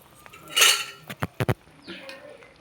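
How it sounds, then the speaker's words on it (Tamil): A spoon stirs boiling paruppu urundai kulambu, a lentil dumpling curry, in a metal pot, producing one scraping swirl and then a few sharp, close clinks against the rim, heard without speech. "நான் இப்போ உங்களுக்கு கிண்டி காமிக்கிறேன்"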